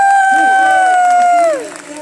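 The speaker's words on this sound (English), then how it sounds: "give a big round of applause to Rex and Greg for investing in these new p" A crowd at a Global Rally product training event in Stockholm cheers with loud, sustained whoops and shouts, with some applause mixed in, before the noise drops off sharply near the end.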